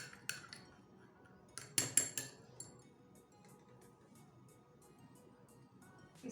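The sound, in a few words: mixing a homemade beauty face mask in a bowl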